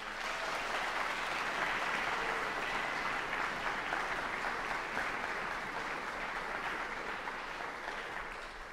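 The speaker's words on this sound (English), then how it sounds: "Another round of applause" Steady audience applause fills a benefit concert hall with an orchestra onstage, a dense even wash of many hands clapping, sustained throughout and easing slightly near the end.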